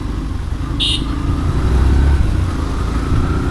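A motorcycle rides along a road with a steady engine drone, traffic noise and a brief high tone over it, no talking.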